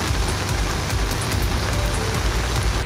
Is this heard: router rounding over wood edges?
no